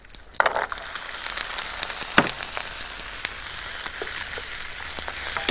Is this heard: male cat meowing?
no